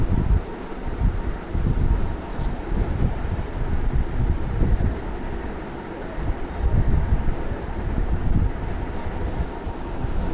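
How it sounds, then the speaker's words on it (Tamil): Steady wind rushes through leaves of a farm garden, including banana plants, in a broad, continuous roar that swells and eases without any pause. "இந்த காற்றுல இந்த இலைகள்லாம் அசைகிற அழகே அழகு."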